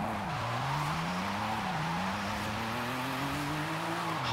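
Car tires squeal steadily through a corner in the Forza Horizon 5 racing game, with a loud engine note rising and dipping beneath the screech, continuous and close, no talking.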